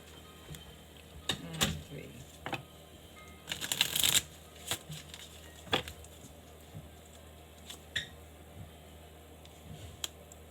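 Tarot cards are shuffled by hand at close range, with scattered riffles, taps and one longer riffle burst amid quiet pauses.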